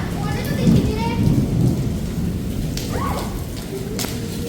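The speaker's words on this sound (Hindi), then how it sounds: "ये तो सच में ही अच्छी बारिश हो गई" Heavy rain pours steadily in a dense, loud wash, with rolling thunder rumbling through the downpour and a thunder crack near the end.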